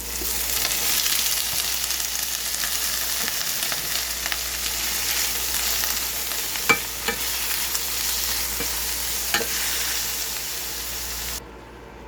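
Strip-cut beef frying in a hot pan, a steady loud sizzle and hiss with occasional stirring scrapes and clinks, ending abruptly near the close.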